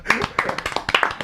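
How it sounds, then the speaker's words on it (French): A small audience at a comedy joke session gives brief, scattered claps, a few sharp hand hits over about a second, mixed with voices and laughter. "vous pouvez m'applaudir"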